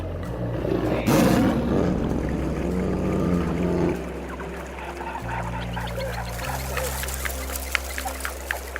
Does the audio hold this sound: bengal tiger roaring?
yes